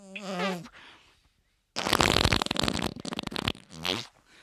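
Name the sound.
liquid fart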